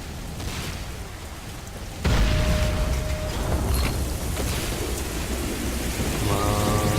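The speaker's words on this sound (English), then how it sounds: "We have a GPS lock on the Nod installation. Prepare for ion cannon strike." Ion cannon strike on a Nod installation in the video game Renegade, heard as a sudden, loud rumbling blast that kicks in at once and keeps roaring like thunder, with a steady tone and later a rising buzzing layer.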